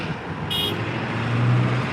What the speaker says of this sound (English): There's a supporter right there honking.